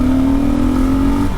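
A Kawasaki KLR650 motorcycle engine with the airbox snorkel removed revs in a brief, steady, throaty drone, loud and close.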